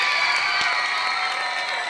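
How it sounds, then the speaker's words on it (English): Applause and cheering from the audience at a high school choir cabaret honour the evening's MCs. The crowd sounds dense and steady, with bright clapping and whoops filling the whole stretch. "Let's give a big warm round of applause for our MCs for the evening, Katie Heckroth and Reggie Schaefer."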